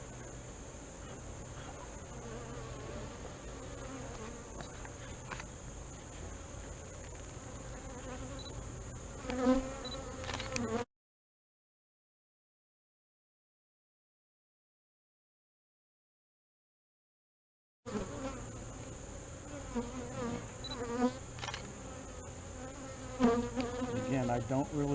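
Honey bees buzz steadily in a dense, close drone while a beehive is opened for inspection, with a gap of silence partway through before the swarm hum returns.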